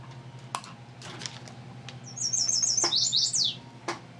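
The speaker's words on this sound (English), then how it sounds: "here is our warbler today" A warbler sings a bright, rapid trilling phrase lasting about a second and a half, set against scattered clicks and a low steady hum in a quiet room.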